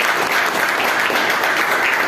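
Loud, dense applause from a church congregation at a worship service, continuous and even throughout with no speech.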